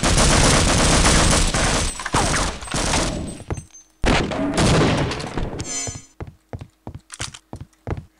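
Gunfire from the video game Half-Life Opposing Force: dense, sustained automatic fire at first, then a run of separate sharp shots spaced out toward the end, loud and close.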